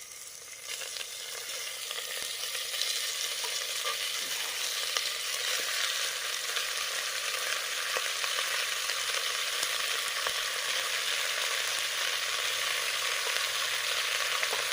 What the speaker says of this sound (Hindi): अब मैं डाल रहा हूँ इसमें चिकन।